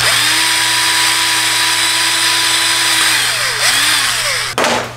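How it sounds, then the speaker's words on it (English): A loud, close power drill whines steadily, its pitch dipping and rising as it bites into hard plastic of a sportbike fender, then cuts off abruptly near the end. "I'm just gonna go ahead and drill it out."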